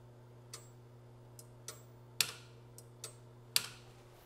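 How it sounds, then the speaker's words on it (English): Relays clicking inside a 1980 Atari Battlezone arcade machine under repair, a run of sharp, irregular clicks, some louder than others, over a steady low electrical hum, with no voices. "I hear clicking of a relay"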